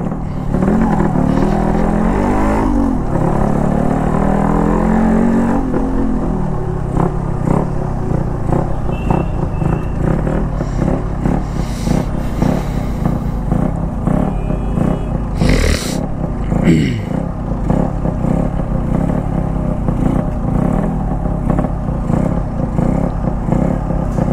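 The Dulari motorcycle's engine runs with a heavy, rough note and clattering crank knock: a loud continuous drone with a rapid pulsing rattle, rising briefly in a rev near the start, heard up close without talk.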